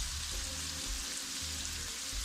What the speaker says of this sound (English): And we saute this a little bit more.